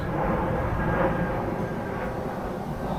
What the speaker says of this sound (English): our airplane is passing by.